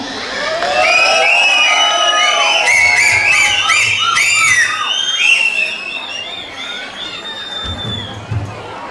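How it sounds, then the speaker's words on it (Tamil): A loud crowd at a Sangamam 2024 event cheers while many shrill whistles overlap, rising and falling in sharp bursts and sweeping tones. "சங்கமம் ஒரு பெரிய விசில் அடிங்க"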